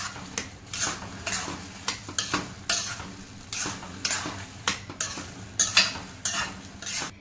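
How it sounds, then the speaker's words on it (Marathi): Carrot halwa, finished with a tempering, is stirred in a pan with a spoon that scrapes rhythmically against the metal, about two strokes a second, close and clear over a faint sizzle. "तडका देऊन झाला, आता आपल्याला चांगलं मिक्स करायचं आहे आणि 2 मिनिट शिजवून घ्यायचं आहे।"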